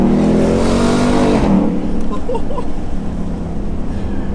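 Ford Mustang V8 convertible engine revving loudly close by, a rising roar that peaks around a second and a half then settles into a steady rumbling idle, alone without talk, in snow.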